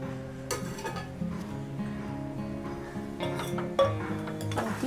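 A steel pot lid lifted off a simmering mixed vegetable curry, giving a few bright metallic clinks and scrapes over a low steady hum, close and fairly loud.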